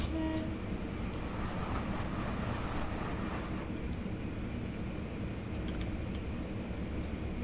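A Class 319 electric train on the Midland Main Line in the game Train Simulator Classic rumbles steadily, a loud continuous rolling drone of wheels and motors with a few faint clicks, no talking.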